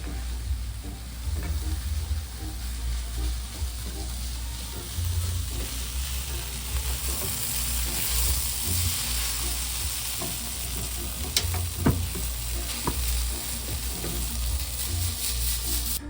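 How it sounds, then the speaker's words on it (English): A tortilla fries in a pan with a continuous crackling sizzle and low rumble that swell and fade over time, plus a few sharp clicks near the middle, close by and without speech. "fry my tortilla."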